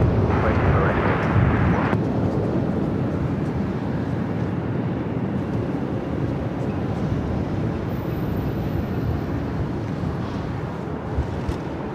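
An aircraft taxiing at LAX produces a steady broad engine roar close by that holds throughout, with a brighter hiss in the first two seconds before easing to a constant rumble.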